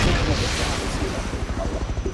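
Gunfire during a firefight at Large Oil Rig in a video game, a dense run of rapid shots over steady rumbling noise, close and loud throughout.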